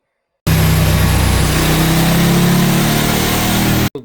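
A KTM 1290 Super Duke R third-generation motorcycle with a tuned engine runs loud and close, a steady revving drone held for several seconds before cutting off abruptly.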